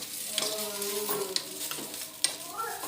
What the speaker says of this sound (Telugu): బాగా వేయించుకోవాలన్నమాట.